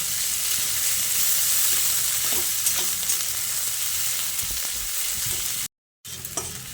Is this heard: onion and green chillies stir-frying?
yes